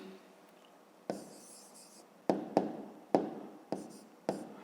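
A pen writes answers to a fifth-grade maths exercise on paper, short scratchy strokes in separate bursts with pauses between them, close and quiet, with no talking.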